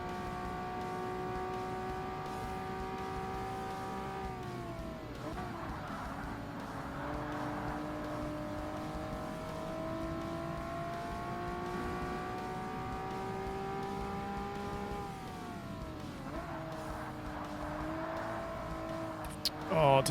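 A race car on track in Forza Motorsport on hard difficulty, its engine droning steadily and holding near, with revs dipping and climbing again through the corners and light tire noise.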